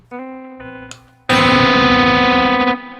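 A distorted electric guitar plays a quieter note, then a loud, harsh sustained chord of two clashing notes rings out for over a second before cutting off.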